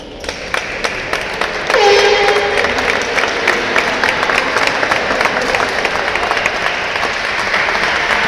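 Applause from the crowd at a women's basketball game, loud and close, a dense steady clatter of many hands that swells after a few scattered early claps and holds for several seconds.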